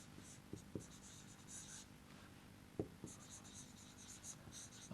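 A pen scratching out an augmented matrix by hand on paper, quiet and close, with soft continuous strokes and a few small taps as numbers are written.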